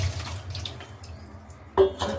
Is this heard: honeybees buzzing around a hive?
no